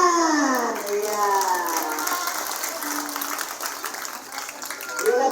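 Children and adults applauding at an Indonesian primary school celebration of the Prophet's birthday and Santri Day. The clapping is loud at first and fades a little, with children's voices and chatter running through it.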